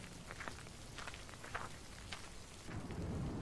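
Heavy rain falls on a muddy village path, a steady, soft hiss of downpour with scattered drop patter that swells slightly toward the end, heard faintly and without voices.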